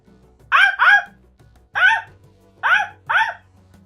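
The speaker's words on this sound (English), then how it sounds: "There's a dog out there." A dog outside gives five short, fairly close barks in quick pairs and singles, with no talking.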